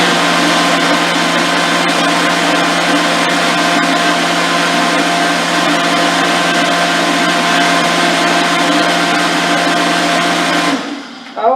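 On its frozen drink setting, a Ninja blender whirls a frozen hazelnut coffee drink in a loud, unbroken motor whine that holds steady for around eleven seconds before suddenly stopping.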